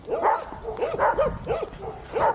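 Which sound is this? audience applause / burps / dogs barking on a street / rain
dogs barking on a street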